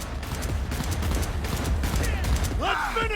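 Gunfire in Cyberpunk 2077 cracks in a dense, continuous burst across the whole stretch, mixed with game clatter and a voice speaking, ending with higher whining sounds.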